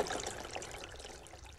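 Water pouring and trickling in the puzzle video game Moncage, a short, steady watery stream heard alone at moderate level.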